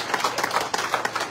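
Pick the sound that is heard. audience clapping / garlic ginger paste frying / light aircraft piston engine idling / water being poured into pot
audience clapping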